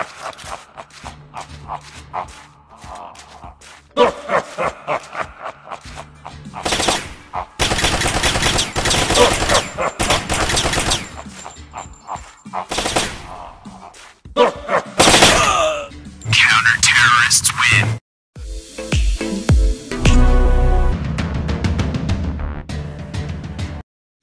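Loud bursts of automatic gunfire from an Android first-person shooting game, coming in dense volleys separated by short pauses, with game voice callouts between the bursts.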